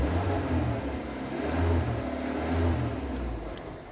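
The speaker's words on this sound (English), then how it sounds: "start the car, rev the engine and see if there's any sign the exhaust is leaking" A Skoda Octavia Mk2, its exhaust dented after hitting a rock, is started and revved, giving a steady mid-pitched engine drone that swells and eases in slow rises while idling between revs.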